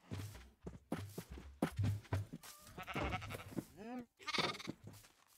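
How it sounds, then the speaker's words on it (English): Sheep bleat repeatedly in a video game, several short wavering calls, close and fairly loud, over footsteps and shuffling sounds. "we'll actually take this sheep family out and I'll move them."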